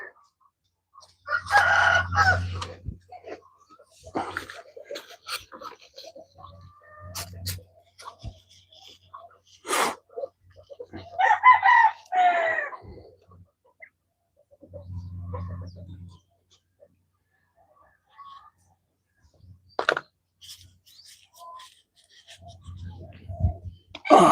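Roosters crowing repeatedly with scattered clucks, several calls rising loud and close in bursts separated by quieter gaps, heard on a farm in the evening.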